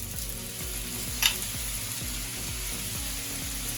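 Yakisoba made with spaghetti noodles sizzles steadily in a hot pan as soy sauce goes in. The frying hiss is continuous and close, with a brief sharper spike early on and a faint rhythmic low thumping beneath, and nobody speaks.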